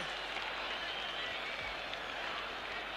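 At a 1974 rugby test match between South Africa and the British Lions, a stadium crowd roars and applauds after a try, a dense, distant wash of cheering and clapping that holds steady throughout.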